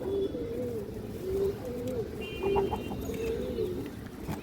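Pigeons on a breeding farm coo repeatedly, soft rolling low calls recurring every second or so from nearby birds, over a steady background murmur.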